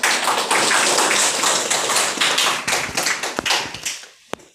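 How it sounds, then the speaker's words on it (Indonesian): Seminar audience applauding the two presenters, dense loud clapping from a crowd that holds steady for a few seconds, then thins into scattered claps and fades out. "Mari kita memberikan aplaus yang meriah untuk kedua pemateri."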